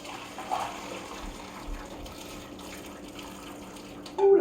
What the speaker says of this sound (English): Let's get rid of this hot water.